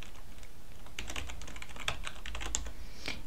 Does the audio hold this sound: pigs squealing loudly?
no